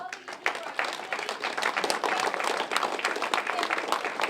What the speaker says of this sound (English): I think a round of applause for you, Josiah